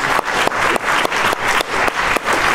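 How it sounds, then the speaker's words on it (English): Lecture audience applauding in a hall, a dense steady wash of clapping from many hands, loud and continuous throughout. "a round of applause"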